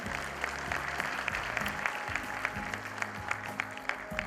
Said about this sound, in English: Ladies and gentlemen, a big round of applause for all of them.